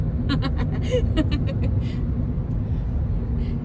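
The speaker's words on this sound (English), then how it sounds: "Bangkok traffic jam" Cars and buses sit in a Bangkok traffic jam, a dense low rumble of idling engines and road noise, with voices talking over it in the first half before the traffic continues alone.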